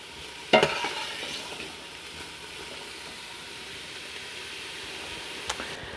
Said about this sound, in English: we want to cook these down for about 5 minutes until our onions and our celery are wilted